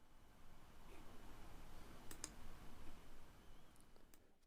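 Mouse clicks while saving a graph as a PNG in a 3D plotting program, two quick sharp clicks close together followed by a couple of fainter ones, all very quiet.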